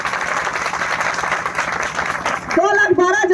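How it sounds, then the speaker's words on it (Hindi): An audience gives a burst of applause, dense clapping under a speaker's voice, followed by a tonal musical sound in the final second. "तो एक बार हमारी डीटीएम माँ के लिए जबरदस्त ताली।"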